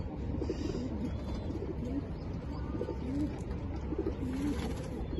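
Pigeons in a loft at night coo softly in repeated rolling phrases over a constant low hum of background noise.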